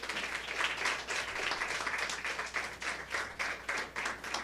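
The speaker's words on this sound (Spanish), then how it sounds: "Denle un fuerte aplauso al Señor." A church congregation applauds together, a dense, steady wash of many hands clapping that holds at full strength for several seconds without voices over it.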